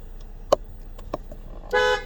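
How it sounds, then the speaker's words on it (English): A few sharp clicks and knocks during steering wheel and airbag removal on a Ford Taurus X wagon, then a short, loud car horn honk near the end, close by. "it's going to honk a little bit"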